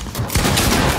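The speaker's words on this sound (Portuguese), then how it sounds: "eles dão muito tiro estranho" A loud, dense burst of rapid gunfire in Fortnite, shots overlapping in a sustained fusillade.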